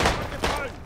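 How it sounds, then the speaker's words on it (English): A short, loud burst of gunfire in a World War One first-person shooter sounds close, with a heavy thud and a rumbling tail lasting under a second. "Now they shooting out there, bro."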